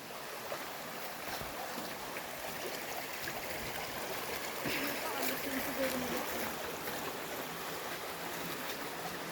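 Steady rushing water from a strong-flowing spring, a continuous broadband roar with occasional faint voices in the background.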